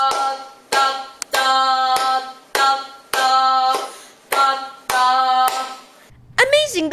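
A rhythm clapped by hand in a music lesson, sharp claps in an uneven syncopated pattern with a longer held beat after a short one, each clap ringing with a pitched tone; a brief voice sound at the end.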